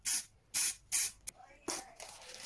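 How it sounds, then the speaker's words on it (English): Three short, sharp bursts of aerosol spray paint on a custom motorcycle, close and evenly spaced, followed by a quieter hiss and a longer, softer spray. "we've got yellow up here, so I'm going to spray from underneath"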